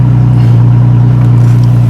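A Cadillac ATS 3.6L V6 engine idles steadily with a low, constant hum throughout, close by and unbroken, no voices present.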